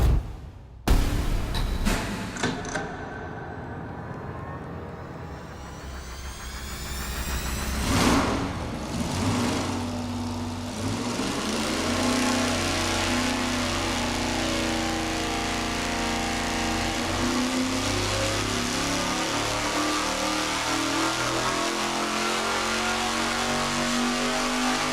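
An engine on a dynamometer is run from 3,500 to 6,500 rpm in a full pull, a loud roar sweeping upward in pitch and then holding high and steady with no talk.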